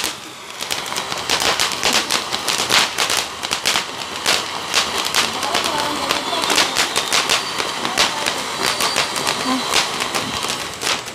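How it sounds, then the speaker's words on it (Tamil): Silver-coloured banana tree firework bursting into a rapid crackling string of sharp pops that carries on for about eleven seconds, loud and close, with voices chattering underneath. "ஃபஸ்ட்டு தாங்க சில்வர் கலர் வாழை மரம்."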